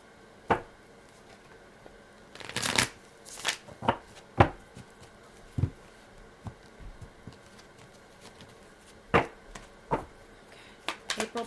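Tarot cards shuffled close by in scattered soft flicks and riffles, a denser burst partway through and then sparse taps and slaps, with no voice over them.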